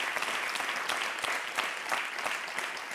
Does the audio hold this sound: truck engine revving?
no